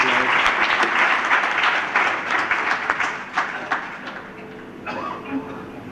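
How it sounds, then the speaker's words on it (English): An audience at a bhajan festival breaks into loud, full applause that keeps going for several seconds and then thins out, with a few voices audible as it fades. "So I'd like to give a big round of applause."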